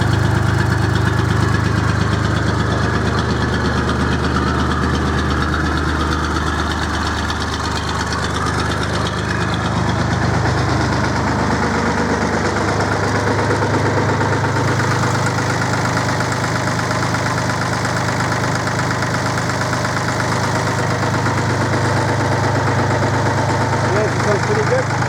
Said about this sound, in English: Perkins engine sounds lovely.